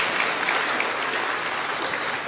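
A church congregation claps during a sermon, a brief, dense burst of many hands applauding at steady volume, close and filling the room.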